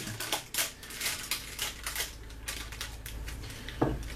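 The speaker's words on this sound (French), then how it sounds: "Et on retire le papier sulfurisé." Parchment paper is peeled off the bottom of a turned-out chocolate brownie, giving a close series of irregular crinkling, crackling snaps with small tearing bursts.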